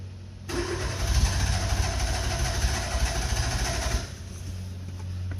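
An old car's engine cranking and sputtering on the edge of catching, a loud rough churning burst lasting about three and a half seconds over a humming background before it drops away without running.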